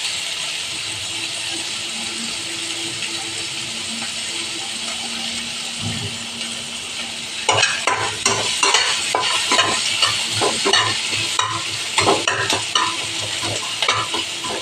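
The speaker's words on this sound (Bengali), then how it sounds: "পেঁয়াজটা ভালো করে ভাজা হয়ে যাবে" Onions fry in a pan with a pinch of salt, ahead of chowmein going in. A steady hissing sizzle gives way about halfway through to loud, repeated scraping strokes of stirring over the frying.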